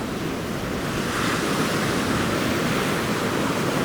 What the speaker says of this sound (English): Wait for the waves, you don't want a wave knocking you over while you're casting.